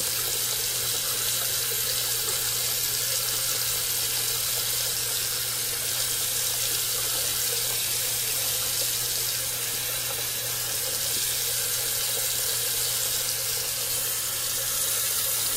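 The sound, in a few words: water running from a tap to fill a sink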